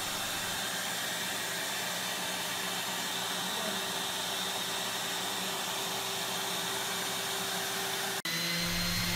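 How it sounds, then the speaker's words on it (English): Random orbit sander working over a wooden box, giving a steady, even whirring hiss throughout with a brief change in pitch near the end. "you can progress to finer and finer grits with a random orbit sander"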